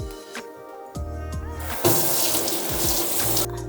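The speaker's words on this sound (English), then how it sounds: "we're going to wash this with running water really well" Running tap water gushes into a sink while a horse mackerel is rinsed, the stream loud and steady with brief shifts and clunks as the fish is handled under it.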